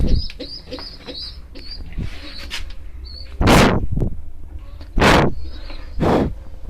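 Pigeons in a loft with eggs and chicks make soft low coos among high chirps, broken by several loud whooshing bursts that may be wingbeats.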